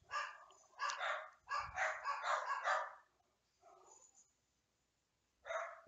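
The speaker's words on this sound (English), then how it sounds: "Don't know if you can hear those dogs" Several dogs bark in the background, faint and distant, in repeated clustered bursts with pauses between them and no talk over them.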